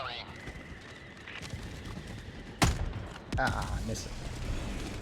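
Explosive impacts of enemy artillery fire in the video game Helldivers 2, one sharp blast near the middle and another heavy rumbling burst soon after, over a constant battle din with a brief spoken remark.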